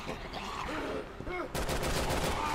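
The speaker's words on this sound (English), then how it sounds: "Now he's shooting him." Gunfire in the video game Resident Evil 6 sounds as rapid automatic bursts, loud and close, in a dense stretch toward the end over a busy game soundscape with voices.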